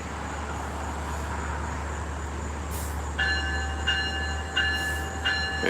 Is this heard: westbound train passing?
yes